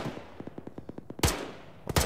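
Gunfire in a military video game: a rapid, even string of shots followed by two heavier, louder blasts, close and without speech.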